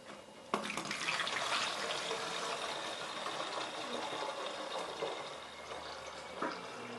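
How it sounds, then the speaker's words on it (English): Homemade apple wine poured from a pitcher into a bottle, a steady trickling, gurgling liquid stream following a soft knock at the start, fairly quiet and close, with no speech. "I'm able to just pour right back in the same bottle it come out of"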